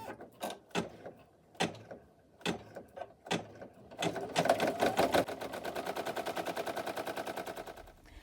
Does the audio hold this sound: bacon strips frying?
no